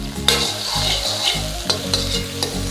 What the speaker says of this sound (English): Give that a quick little stir in.